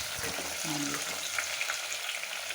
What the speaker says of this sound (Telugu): తరిగి పెట్టుకున్న ఎర్రగడ్డలు వేసి వేయించుకోవాలి బాగా పచ్చివాసన రెడ్డిగా అయ్యేంత వరకు వేయించుకోవాలండి